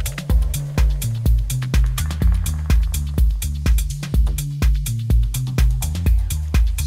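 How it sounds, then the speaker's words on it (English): Glitchy, intergalactic percussive sounds from the HyperMess plugin run over a steady electronic beat with a thumping kick and a repeating bass line, looping in a tight rhythmic pattern, loud and close with no voices. "intergalactic kind of glitchy percussive sounds going on in the background"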